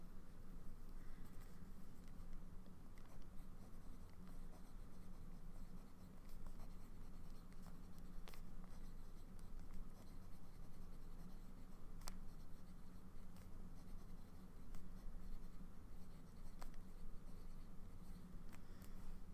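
Fountain pen nib scratching across paper with Sailor Georgia ink from the 50 States series, a steady soft close-up scratching that continues with no talk throughout.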